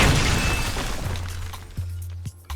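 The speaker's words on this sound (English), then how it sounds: "Smash has good AoE damage." Smash fruit attack in Roblox Blox Fruits, opening with a loud shattering crash that decays over a couple of seconds, followed by a few softer thumping impacts.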